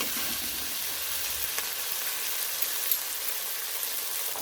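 Marinated chicken frying in leftover oil in a pan for a Lahori chicken dish, giving an even, rain-like sizzle that holds steady throughout, close and fairly soft, with no voices.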